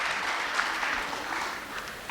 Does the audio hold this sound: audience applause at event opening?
yes